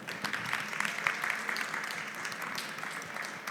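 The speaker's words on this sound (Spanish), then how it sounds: "un aplauso para Sofía." An audience at a technology training session applauds steadily, with continuous mid-level clapping throughout.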